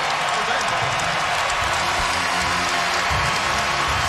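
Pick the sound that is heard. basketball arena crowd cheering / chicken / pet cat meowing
basketball arena crowd cheering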